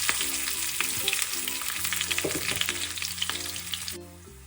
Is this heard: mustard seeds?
yes